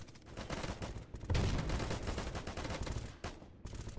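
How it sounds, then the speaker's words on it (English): Dense gunfire and explosions rattle through a firefight in the shooter game S.T.A.L.K.E.R. GAMMA, with continuous overlapping shots and blasts at moderate loudness and a heavier burst partway through. "wait for some more explosions"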